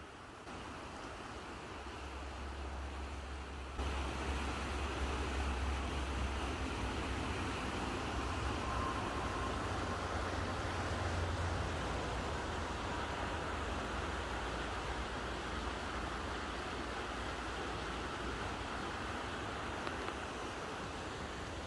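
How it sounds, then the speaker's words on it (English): Steady broadband rush of river water flowing over rocks, continuous and fairly close, with a low rumble beneath that fades after the first few seconds; no voices. "So the sound of water, just with the rocks, I cannot describe it."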